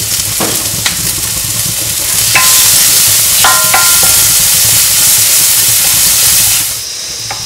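Onions sautéing with salt in a pan for South Indian arbi curry, giving a loud, dense, continuous sizzle that swells midway, broken by a few clinks and scrapes of a stirring utensil, close up.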